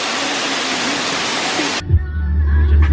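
Loud, dense rush of a waterfall in Bali, heard close up for nearly two seconds before cutting abruptly to a quieter scene with low rumble and faint background sounds.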